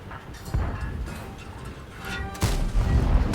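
Heavy SU-122-44 tank destroyer cannon shots in a tank video game boom out, one and then a louder second blast a couple of seconds later, over constant rumbling game-battle noise.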